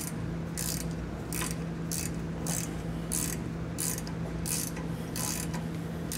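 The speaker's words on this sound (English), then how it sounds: "We're just sort of gonna be tightening it by feel here with our ratchet." Hand ratchet snugging a bolt on an Air Lift LoadLifter 5000 rear air spring bracket, a quick regular series of about nine rasping clicks, close and clear with no talk.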